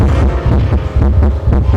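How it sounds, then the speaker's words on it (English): A rapid, thumping heartbeat, loud and close, with quick regular low pulses. "This is what most people's heart rate sounds like"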